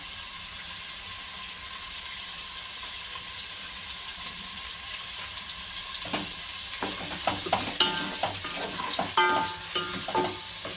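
Curry leaves and three dried red chillies dropped into hot oil for a bottle gourd dalcha: a quiet, even hiss that turns into a louder, crackling sizzle halfway through, close by, with no talking.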